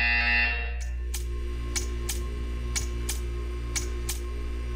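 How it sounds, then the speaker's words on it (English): Portal 2 test chamber buzzer sounding as a series of sharp, evenly spaced electronic pulses, mostly in pairs, over a steady low hum after a brief opening tone. "You will hear a buzzer."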